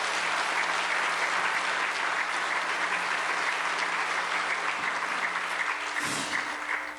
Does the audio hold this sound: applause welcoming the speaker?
yes